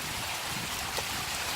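Steady rain hisses down outdoors during a storm while rabbit curry cooks in the open, forming a dense, even wash of patter with no speech over it.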